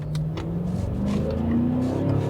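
A BMW M8 Competition Gran Coupe with four-wheel drive accelerates on a wet road, its engine note climbing steadily in pitch, close and fairly loud with tyre hiss underneath.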